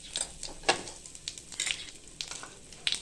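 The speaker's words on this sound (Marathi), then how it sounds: "तर आता तेल आपलं तापत आलेलं आहे, त्याच्यामध्ये मी थोडंसं जिरं टाकते" Cumin seeds sizzle in hot oil in a pan, giving short crackling bursts and a steady hiss at close range, with no talk.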